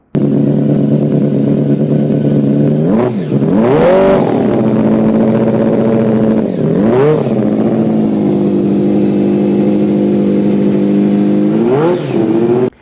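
A high-revving 750cc V8 motorcycle engine screams steadily, rising sharply in pitch in several quick rev bursts toward 17,000 RPM before settling back to a sustained wail.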